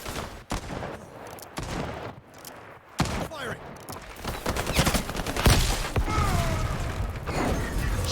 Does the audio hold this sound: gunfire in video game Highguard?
yes